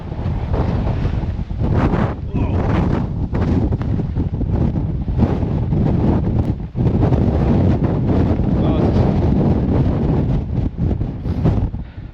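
Strong, gusting wind buffets the microphone on Arthur's Seat hill in Edinburgh, a loud continuous roar and rumble with a brief lull midway.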